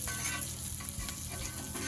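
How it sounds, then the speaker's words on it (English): Chili peppers fry in butter in a skillet: steady hot sizzling and crackling fills the clip, a dense hiss with small pops, no voices. "Bottom of the skillet's coated, everything's sizzling good."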